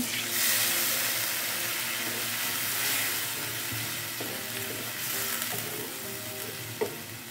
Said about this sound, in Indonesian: lalu kita tambahkan dengan air